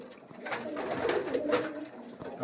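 Giribaj pigeons cooing in a loft, several soft throaty coos rising and falling in quick succession, close by and moderately loud.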